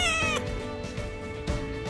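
Kitten meowing close by, one clear drawn-out meow followed by softer, shorter cries.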